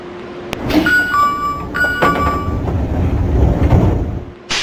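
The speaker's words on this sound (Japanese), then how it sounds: "ドアが閉まります。" A door chime rings in two bursts over rumbling train noise at Hokuhoku-Ōshima station, followed by the low, building rumble of the one-man carriage pulling away.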